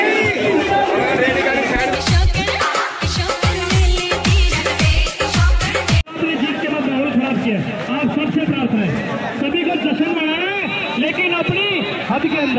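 Dense crowd at a street victory procession celebrating an election win, with loud overlapping chatter and shouting close by, rhythmic percussive bursts in the first half, then steady babble and voices.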